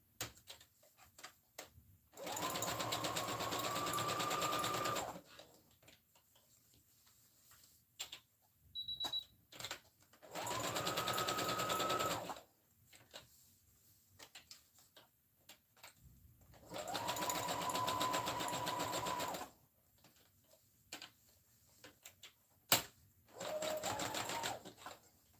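A sewing machine stitches satin fabric in four separate runs of about two to three seconds each, back and forth, with quiet pauses and small handling clicks between them.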